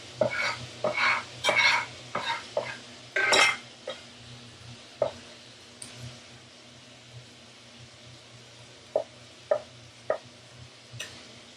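Garlic is stirred in a pan during a seafood fideuà, with a soft sizzle under sharp clinks and scrapes of a utensil against the pan, busy at first and then spaced out into occasional taps.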